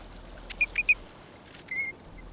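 Several sharp whistled alarm notes from an American golden-plover, three quick calls followed by a longer one, fairly close and clear over a faint outdoor background.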